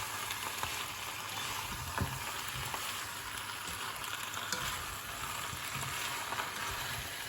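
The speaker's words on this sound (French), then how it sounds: "Je mélange tout bien." Tartiflette ingredients frying in a pan with pepper and garlic while being stirred, a continuous dense sizzle close up with small scraping knocks from the utensil throughout.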